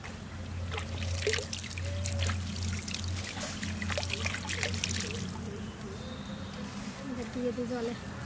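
Water pours and trickles into water outdoors as a puja offering, a steady splashing stream heard under a person talking.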